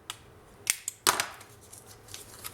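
Scissors snip paper to round the corners of a scrapbook strip, several short, crisp cuts in quick irregular bursts close by, with quiet pauses between them.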